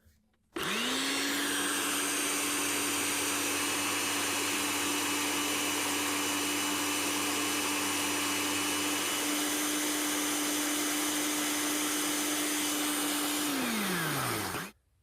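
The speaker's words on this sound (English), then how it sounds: "thank God I can turn the blender back on" A blender spinning up sharply, holding a loud, steady high-pitched whir for about thirteen seconds, then winding down as the motor slows and stops.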